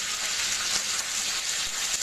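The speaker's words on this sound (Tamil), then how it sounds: "எண்ணெய் காஞ்சிருச்சு இப்போ இதில் வந்து நம்ம கருவேப்பிலையை ஆட் பண்ணிக்குவோம்" Steady bright sizzling of curry leaves frying in hot oil, a constant crackling hiss with no voices.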